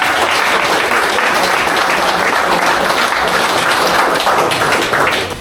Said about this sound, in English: The right thing to do is get started with just a massive round of applause for the 40 years.